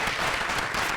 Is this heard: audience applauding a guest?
yes